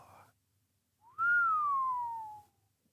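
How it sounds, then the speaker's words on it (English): A man lets out a single low whistle that swoops up briefly and then glides slowly down in pitch for about a second and a half, clear and close with no voices over it. "let out a low whistle"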